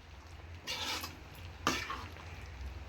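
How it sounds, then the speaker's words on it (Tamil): Paste being stirred into avial, a Kerala mixed-vegetable curry, in a pot, with two short bursts of wet scraping and spoon clatter against the metal, close and quiet, otherwise near silence. "நான் மிக்ஸ் பண்ணிடுறேன்."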